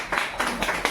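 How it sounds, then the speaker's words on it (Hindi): An audience at a student award event claps for a student with a few loose bursts of clapping, close and fairly loud. "तो खुशबू के लिए वो जोरदार ताली हो जाए"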